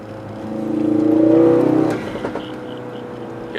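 Car engine of a 2016 Ford Focus RS fitted with a COBB intake, rising under boost to a revving peak, then a soft, subtle turbo blow-off hiss as the throttle lifts, followed by idle and faint fluttery clicks.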